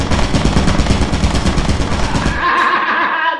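Rapid, loud turret gunfire in Lethal Company rattles in a dense continuous burst for over two seconds, then cuts off and leaves a short ringing electronic tail.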